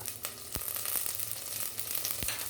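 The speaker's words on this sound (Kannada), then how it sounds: "ಇದನ್ನ ಒಂದು ಸ್ವಲ್ಪ ಎಣ್ಣೆಯಲ್ಲಿ ಹುರ್ಕೋಬೇಕು." About a quarter cup of cut onion, five or six garlic cloves and a few curry leaves fry in oil in a pan for ridge gourd sambar, giving a steady close sizzle with a few soft pops and no speech.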